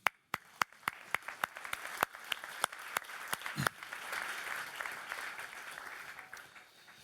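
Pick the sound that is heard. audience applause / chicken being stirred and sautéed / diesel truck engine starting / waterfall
audience applause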